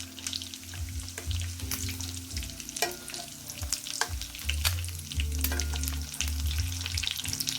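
A flaky fish fillet pan-fries in shallow oil, giving a close, busy sizzle with crackling pops throughout, over a low steady hum and occasional clunks from the pan.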